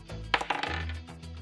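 Dice clatter onto a hard surface during a tabletop roleplaying game, a quick burst of bright clicks and bounces settling into a few faint rattles.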